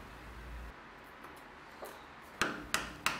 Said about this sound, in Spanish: colocamos el formón 2 o 3 milímetros delante de esta nueva línea y quitamos el material